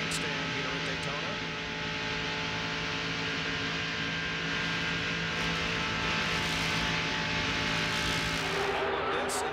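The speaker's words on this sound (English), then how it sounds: "we can hear Mark Martin's engine" 1997 NASCAR stock car engine at Daytona International Speedway, a steady loud droning roar at racing speed over 200 mph, heard continuously under faint crowd and broadcast background.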